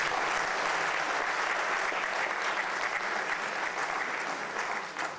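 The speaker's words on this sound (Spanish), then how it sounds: "Saludamos con un fuerte aplauso" Sustained audience applause fills a seminar hall on the economic protection of workers, a steady dense wash of many hands clapping throughout that eases slightly toward the end.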